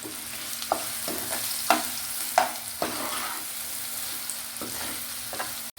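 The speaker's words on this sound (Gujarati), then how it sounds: "હવે આપણે ચોપ કરેલી જે ડુંગળી છે એ નાખીશું." Chopped onions frying in a pan of tempered spices for a paneer kaju masala, a steady sizzle with several sharp stirring scrapes and clinks spaced through it, close and alone.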